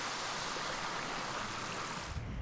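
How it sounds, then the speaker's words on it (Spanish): Waves wash onto an empty Playa del Matorral in southern Fuerteventura, making a continuous, soft hiss of surf with no voices. "Nos encontramos en la playa del Matorral, una de las más visitadas en el sur de Fuerteventura"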